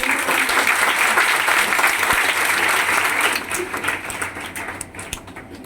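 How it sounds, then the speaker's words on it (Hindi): An audience at a seminar gives loud, sustained applause, with dense clapping that holds steady for several seconds before thinning and fading out. "चलिए एक बार जोरदार तालियों के साथ आपको"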